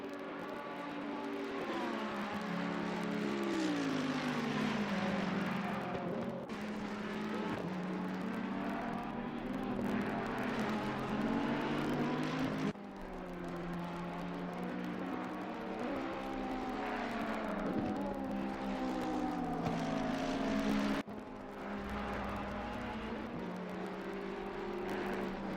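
GT3 race cars, Ferraris and a Mercedes, howl around Monza in a sim racing game, a steady engine drone with rising and falling pitch as gears shift, continuous and without talk.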